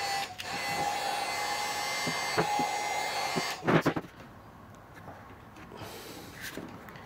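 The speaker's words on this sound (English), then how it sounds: "going to use a little heat gun on this on low" A small heat gun on its low setting blows a steady whirring hiss while softening a Ski-Doo 1+1 seat end for folding. The hiss runs for about three and a half seconds, then cuts off, leaving a few faint handling knocks.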